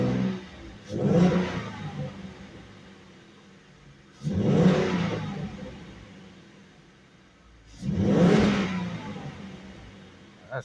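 A stock 2017 Ford Mustang with a 3.7L engine and no turbo revs three times, each blip rising sharply then sagging back to idle, close and clear with no voices.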